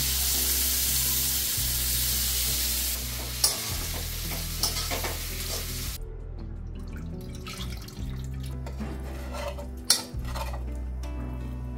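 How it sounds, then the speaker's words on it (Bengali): Chicken pieces fry for butter chicken, a steady sizzle beneath frequent stirring and the clink and scrape of a utensil against the pan, with a few sharper knocks and no voices. "চিকেনগুলোকে ভেজে নেব।"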